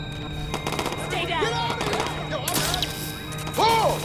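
Gunfire in the video game Watch Dogs 2 comes as bursts of rapid shots, along with sharp impacts and crashes, while someone talks at the same time.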